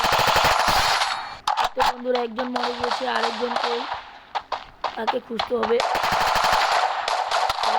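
Rapid bursts of automatic gunfire from the Free Fire video game crackle loudly in dense volleys, broken by a short lull with scattered shots and someone talking over the action.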